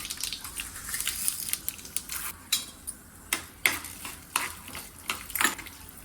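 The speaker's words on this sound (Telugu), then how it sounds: "మంచి ఫ్లేవర్ వచ్చే వరకు వేయించుకొని" Fenugreek, mustard seeds and chana dal roasting in a little oil in a pan, with a steady soft sizzle under repeated sharp scraping clicks of a spoon stirring the seeds.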